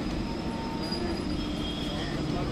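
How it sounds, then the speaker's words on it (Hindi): Four-coach Lucknow Metro train arriving on an elevated bridge, a steady rumbling roar with faint wheel squeal, heard continuously outdoors. "ये सामने मेट्रो का ब्रिज आप देख रहे हैं और मेट्रो आ भी रही है"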